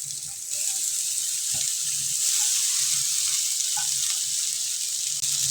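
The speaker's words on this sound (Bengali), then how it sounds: "আমি যে ডিম আর আলুটা গ্রেট করে নিয়েছিলাম ওটা দিয়ে দেবো ওর ভিতরে" Grated egg and potato going into a hot pan with ginger-garlic paste, giving a steady, even sizzle that holds at a constant close level throughout, with no talk.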